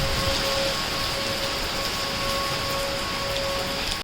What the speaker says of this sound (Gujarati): વરસાદ જો કેટલો ફાસ્ટ વરસાદ આવે છે અત્યારે